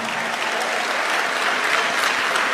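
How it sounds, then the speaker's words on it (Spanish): Steady, dense applause from a church congregation during an evangelistic sermon, close and continuous with no voices, filling the whole stretch at an even level. "denle un aplauso al Señor Jesucristo"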